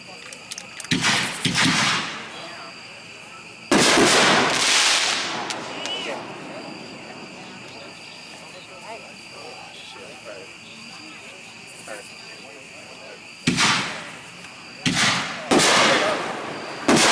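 Boomwow Alienware artillery shell fireworks at an outdoor display, heard as several sharp loud bursts in clusters with crackling tails, separated by stretches of quieter ambient noise.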